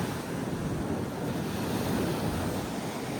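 Stormy sea waves driven by strong wind, a dense, continuous roar of surf and gusting wind buffeting the microphone, loud and steady with no voices.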